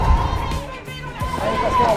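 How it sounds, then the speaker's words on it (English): Distant crowd cheering and chatter line the route of a city marathon near the Louvre, a steady roar of spectators with a few higher shouts rising toward the end. "The atmosphere was electric and the crowd was amazing."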